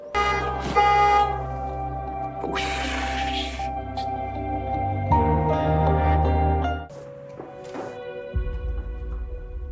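A car horn honks repeatedly in loud, tonal blasts of varying length, some held for seconds, close by with no talk over it.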